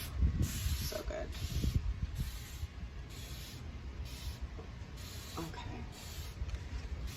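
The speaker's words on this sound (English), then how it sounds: "I'm going to actually just give them a little little spray" A spray bottle misting water onto ginger planted in soil, repeated short hissing squirts in a regular rhythm close by, with a brief spoken word at one point.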